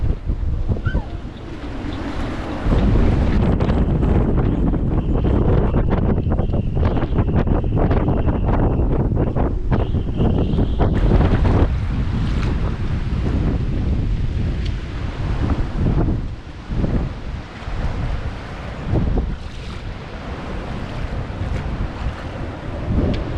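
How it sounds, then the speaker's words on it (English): Strong storm winds gust across a boat riding at anchor off Mallorca, roaring continuously with rushing water and waves slapping the hull, loud and sustained throughout with buffeting on the microphone. "This storm was called Autencia and hit Mallorca with gusts up to 170 km an hour."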